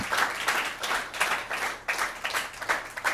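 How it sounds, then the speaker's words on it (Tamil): A church congregation claps together in quick rhythmic bursts, many hands blending into a dense rattling applause that swells and dips, close and steady, with no speech. "கைத்தட்டி கர்த்தரை மையப்படுத்துவோமா."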